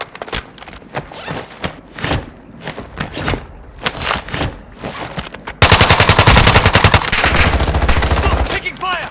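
Rapid gunfire in the Call of Duty video game, sharp repeated shots through the first half that give way to a loud, dense, continuous burst of automatic fire near the end.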